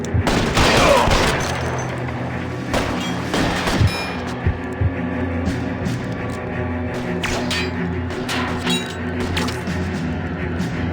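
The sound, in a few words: gunfire in video game L.A. Noire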